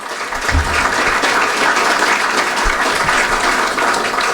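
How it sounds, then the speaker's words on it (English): Audience at a Hall of Fame breakfast ceremony breaks into sustained, dense applause, steady clapping filling the room throughout with no speech over it. "Let's give him a round of applause."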